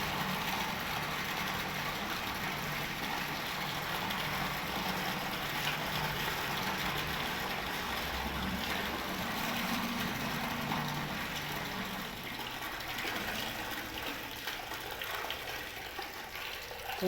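A Jetmatic water pump motor runs steadily with water flowing, a continuous even hum and wash holding at a constant level throughout with no pauses.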